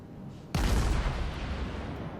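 Heavy naval guns fire in World of Warships, tier 9 guns on a tier 6 ship: one sudden loud boom that rolls into a long, dense rumble and decays slowly over the rest of the clip.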